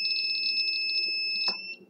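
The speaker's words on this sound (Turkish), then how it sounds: "Şu anda görüleceği üzere bir alarm aldık ve bunu da aktif olarak bize sistemin gönderdiği" An ESP8266 relay control system sounds its alarm buzzer: a shrill, rapidly pulsing electronic beep runs continuously at close range, then cuts off with a small clatter near the end.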